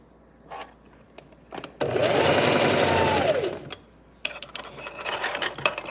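A sewing machine stitches a dress armhole, starting with a few slow clicking stitches, then a sustained whirring run of about two seconds that winds down, followed by more scattered clicks and short bursts of stitching close by.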